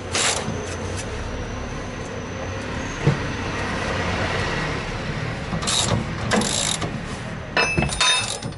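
A 24 mm wrench ratchets on the rear shock absorber bolt of a Peugeot Partner, giving steady metallic clicking and grinding at close range, with a few louder clanks. No speech.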